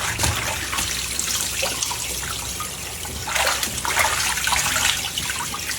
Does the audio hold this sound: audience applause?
no